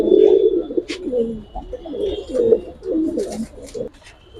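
High-flying Giribaz pigeons coo in deep, rolling, throaty bursts, loud and close, with several overlapping calls from more than one bird.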